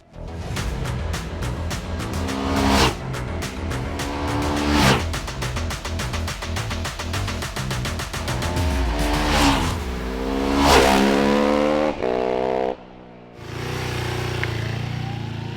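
Ducati 999R V-twin motorcycle accelerating hard: a loud, close engine note climbs through several rising gear pulls with brief dips at the shifts, then a short lull before a final surge.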